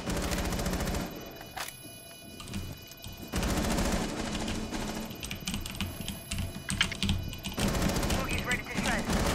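Rapid automatic gunfire from a Rainbow Six Siege match rattles in dense bursts, with short pauses and overlapping shots, loud and close, while players talk over it.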